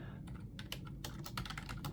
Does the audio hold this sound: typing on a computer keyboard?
yes